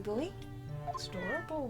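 A cat in The Great Ace Attorney Chronicles gives short, bending meows, the calls overlapping a person talking close by.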